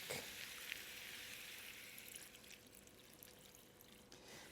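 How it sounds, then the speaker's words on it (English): Chicken stock poured into a pot of pork belly, beans and bacon gives a soft, steady liquid hiss and trickle, quiet and close throughout. "Now I'm going to pour in some chicken stock."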